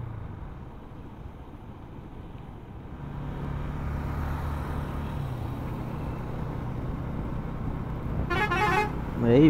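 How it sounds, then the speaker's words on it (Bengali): Steady highway traffic rumbles with heavy bus engines droning nearby, then loud air horns blare near the end in a sharp, piercing burst over the road noise, with faint voices in the background. "এই বাসের এই হর্নগুলো,"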